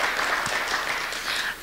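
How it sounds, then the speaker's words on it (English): Audience applause at a 2013 Ward 2 Calgary municipal election candidate forum, a steady wash of clapping from a crowd that holds for over a second, then thins out at the end. "I just want to invite everyone to hold their applause to the end"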